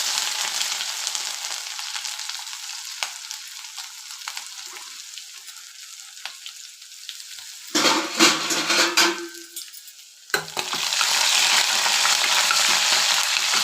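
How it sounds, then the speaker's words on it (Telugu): Steady sizzling of ginger paste frying in a hot pan after tempering spices, with a burst of louder spattering and a few utensil scrapes midway before the sizzle resumes. "పచ్చివాసన పోయేలాగా ఫ్రై చేయండి"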